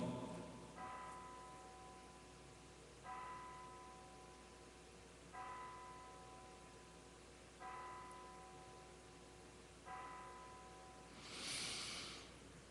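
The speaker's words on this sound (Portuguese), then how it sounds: "E pelo visto, a igreja aqui do lado badalando" A church bell next door tolls five evenly spaced strokes, each ringing tone decaying before the next, heard from a moderate distance over a low steady hum.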